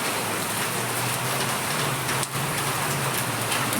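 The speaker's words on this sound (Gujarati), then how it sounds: "વાદળ પણ હજી કાળું કાળું છે અને ખૂબ વરસાદ આવી રહ્યો છે" Heavy rain pours down under dark clouds, a dense, constant loud hiss of drops on surfaces that fills the whole stretch, close and steady with no talk.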